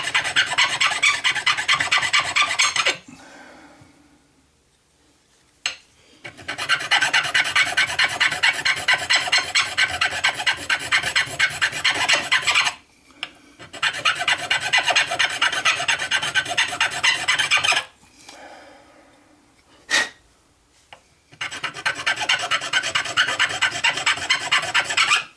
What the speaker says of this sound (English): I'm just turning it as I sand or as I file, just to make sure I'm not doing one side too heavily.